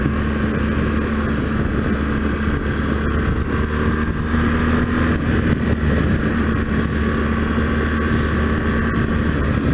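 A 2013 BMW R1200GS motorcycle engine on a test ride, a loud steady drone that swells slightly as the throttle is blipped, close to the rider with constant wind and road roar.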